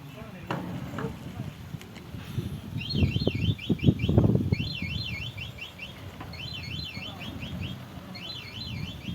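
A reversing vehicle gives off a rapid, repeating electronic warble in short bursts, fairly faint against engine rumble and nearby speech.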